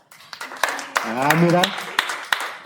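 Sparse, separate hand claps from a person applauding themselves pop out every half second or so, close and crisp, while someone speaks over them.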